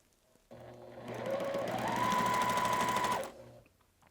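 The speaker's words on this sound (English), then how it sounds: "now I'm going to start sewing some of these together" A sewing machine stitches quilt block pieces together in one close, steady run that starts abruptly, speeds up to a whirring hum and stops after about three seconds.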